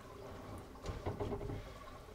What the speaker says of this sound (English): allowing the toilet to cycle completely with the help of a toilet plunger